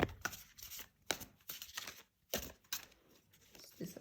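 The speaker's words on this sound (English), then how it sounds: "These cards are really big, so it's hard to shuffle." Large oracle cards are shuffled by hand, giving a series of quiet papery riffles and slaps in uneven bursts separated by short pauses.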